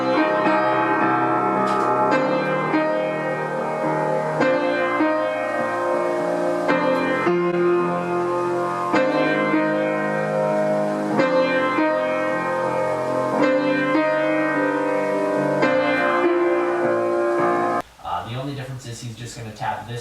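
A piano cover of Shin Gojira's theme, played in a more upbeat, faster style, with steady loud chords in repeated phrases that break off near the end into a brief different sound.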